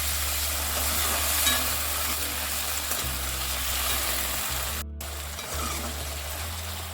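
Sauce with vinegar, soy sauce and red chili sauce stirred in a hot pan, a steady sizzle with scraping stir strokes and a low hum beneath, briefly cutting out near the end.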